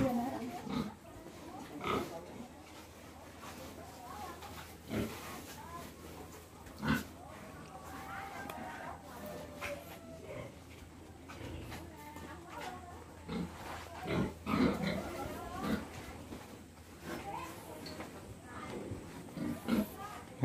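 Pigs on a pig farm grunting and squealing in short bursts over steady barn background noise, with people talking nearby throughout.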